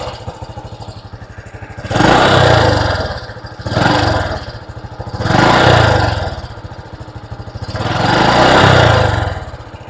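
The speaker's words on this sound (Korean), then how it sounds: "스로틀 한번 당겨보겠습니다" A Honda Cross Cub motorcycle idles with a steady low putter, then the throttle is pulled three times, each rev rising and falling in a smooth swell before settling back to idle, loud and close with no talk.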